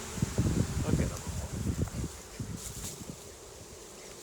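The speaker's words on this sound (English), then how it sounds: "Bees everywhere." Honeybees buzz steadily around an opened hive with a newly added box, a dense close insect drone with brief rustling and a voice murmuring at the start.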